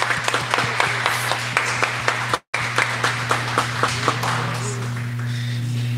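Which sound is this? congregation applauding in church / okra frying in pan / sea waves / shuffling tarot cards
congregation applauding in church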